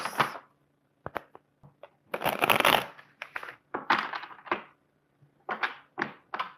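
Tarot cards being shuffled up close in quick dry riffling bursts and crisp snaps, separated by brief silences, with no one talking.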